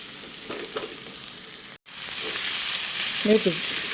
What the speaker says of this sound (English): Meat is added, so I'm just mixing the meat with the onions and garlic.